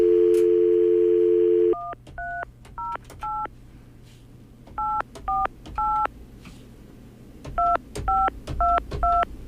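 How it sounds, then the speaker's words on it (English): A steady telephone dial tone, then groups of quick two-note keypad beeps, pressed one after another with short pauses between them. "You just make that phone sing when you dial."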